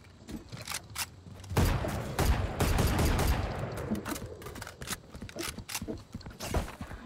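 Rapid bursts of gunfire in the video game Valorant, loud, dense volleys overlapping one another, with sharp clicks and impacts scattered between them and no talking.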